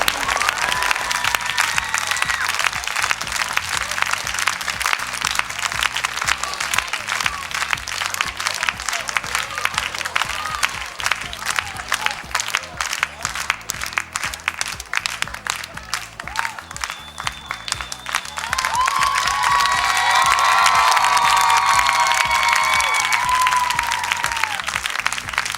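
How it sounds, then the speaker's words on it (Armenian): An audience applauds a departing singer with sustained, dense clapping that runs for a long stretch, swelling louder near the end with some cheering and whistles mixed in, no speech on top. "Ծափարենք Ջուլիետային։"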